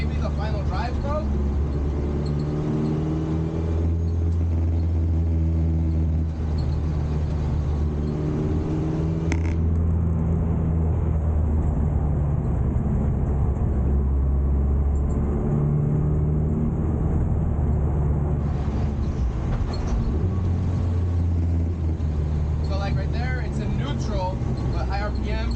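Honda Integra on giant radial tires driving with a slipping drivetrain, its engine droning and rising and falling in pitch under loud, continuous in-car talk, with steady road rumble throughout.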